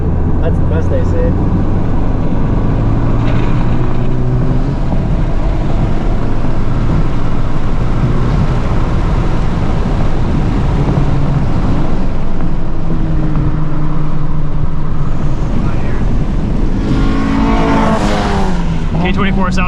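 A 2023 FL5 Honda Civic Type R with a K24 engine, tuned to 350hp on RE-71RS tires, drones steadily on track from inside the cabin, revs rising and falling with voices talking over it.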